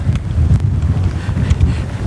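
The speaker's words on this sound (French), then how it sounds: "Et beaucoup de vent." Strong wind buffets the microphone in heavy, gusting low rumbles that swell and ebb continuously on an open hiking trail lined with dry-stone walls, with no talking.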